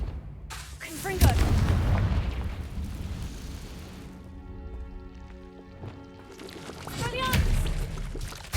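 A Confringo spell explosion in the video game Hogwarts Legacy: a loud fiery blast that rumbles and decays over several seconds, with a second burst near the end, as a voice speaks in between.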